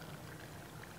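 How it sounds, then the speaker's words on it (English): Malibu rum trickles into a glass behind a bar in a faint, brief pour, a soft steady liquid stream with no talk. "I'll just pour it right into there."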